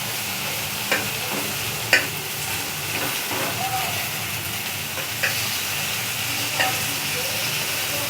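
Chana dal with coconut sizzles steadily in a pan while a spoon scrapes and stirs, giving occasional sharp knocks against the metal amid the continuous frying hiss.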